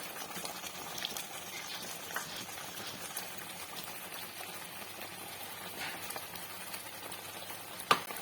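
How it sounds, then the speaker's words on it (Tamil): Paneer cubes simmer in a kadai paneer gravy, a faint, steady bubbling and gentle sizzle that runs throughout, with a small clink near the end. "இந்த ஸ்டேஜ்ல பன்னீர் கியூப்ஸை போட்டுடலாம்."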